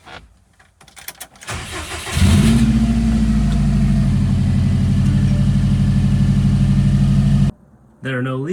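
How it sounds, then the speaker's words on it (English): A Factory Five 818 kit car with a freshly fitted Killer B oil pan cranks with a few starter whirrs, catches and settles into a loud, steady idle, then cuts briefly before a sharp rev at the end. "We can go ahead and start the car."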